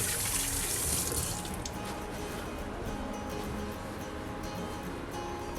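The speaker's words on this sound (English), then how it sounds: "Let me just rinse my hands here." Tap water runs steadily over hands at a kitchen sink during cooking, loudest for the first second and a half and then continuing as a softer, even splash to the end.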